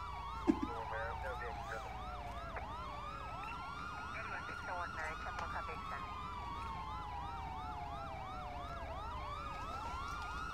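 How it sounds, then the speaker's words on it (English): Multiple emergency vehicle sirens wail together in the GTA V LSPDFR police game, overlapping rising and falling tones that sweep continuously over a steady traffic rumble, loud and close throughout. "just tell him to put his ear to the sirens"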